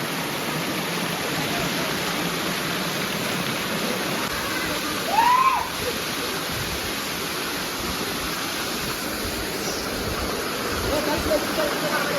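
A waterfall in a secluded spot roars as a constant broad rushing wash, loud and unbroken throughout, with a brief faint call rising above it partway through.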